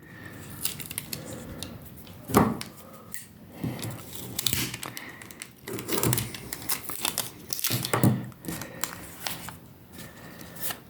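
A paper envelope being packed with stamps and sealed with tape: close crinkling, rustling and tearing sounds in irregular bursts, quiet and without talk.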